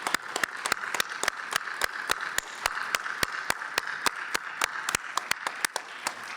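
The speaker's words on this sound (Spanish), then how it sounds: "Yo les pido un aplauso antes de la conferencia" At an anesthesiology congress, hands clap in a sharp, regular rhythm, loud and close, with a softer background of wider audience clapping beneath the distinct individual claps.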